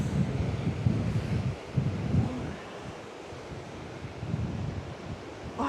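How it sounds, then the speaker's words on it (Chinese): Sea waves churn and wash into an ocean pool on the Australian coast on a cold day, a steady rushing surf roar with wind buffeting the microphone and no voices. "感觉来自四面八方的海浪在这里搅和"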